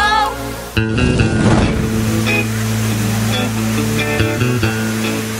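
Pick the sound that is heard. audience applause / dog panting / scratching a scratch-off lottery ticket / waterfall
waterfall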